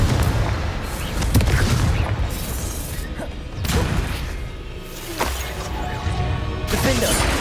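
Explosive spell blasts in Hogwarts Legacy combat, a series of heavy booms and crashes bursting repeatedly over several seconds, loud and close amid game effects.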